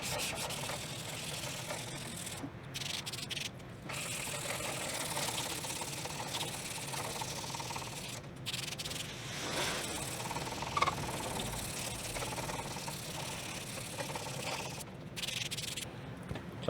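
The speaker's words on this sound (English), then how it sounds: "I'm gonna have to sand down a little bit more on the 320" Filler putty over clear coat runs is sanded with 320-grit sandpaper, a continuous close rasping rub with brief pauses between strokes.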